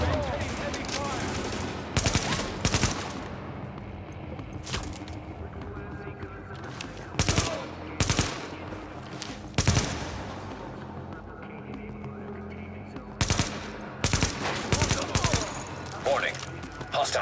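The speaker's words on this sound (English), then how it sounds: "Looks like we are maintaining heavy fire." Heavy sustained gunfire in the video game The Division, with dense rattling bursts and sharp loud volleys repeating across the whole stretch over constant battle noise, while voices talk underneath.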